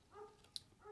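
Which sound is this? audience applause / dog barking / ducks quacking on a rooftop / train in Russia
dog barking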